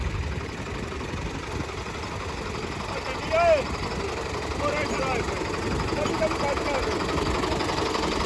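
A new tractor hitched to a maize trolley stuck in a field idles with a steady low engine drone, while voices talk over it.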